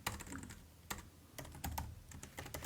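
Someone types HTML code on a computer keyboard, quick irregular key clicks in short bursts and pauses, close and quiet with no talk.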